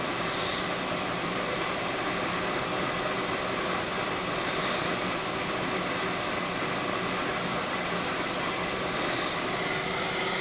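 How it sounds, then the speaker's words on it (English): Continuous loud broadband hiss of compressed air venting from a valve positioner on an air flow loop, steady throughout with faint periodic swells, no speech. "You can actually hear the positioner relieving some air."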